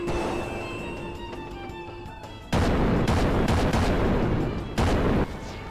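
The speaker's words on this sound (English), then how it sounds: "Let's fire some cannonballs. Call for some port fire from the SS Invincible." Cannon fire from the SS Invincible ship in Chrono Cross: two loud, broad booming blasts, a long one and a shorter later one, over game music.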